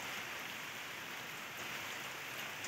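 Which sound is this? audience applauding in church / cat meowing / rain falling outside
rain falling outside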